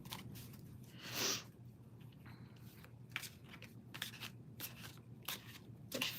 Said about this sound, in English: we will shuffle and see what you get